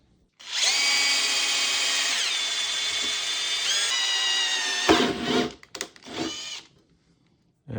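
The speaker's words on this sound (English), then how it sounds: "let's go back to drilling" A power drill bores into a 3D-printed part for a DIY Proton Pack kit build, whining loudly and steadily for several seconds, pitch dipping as it bites, then a few short bursts and stops, with no talking.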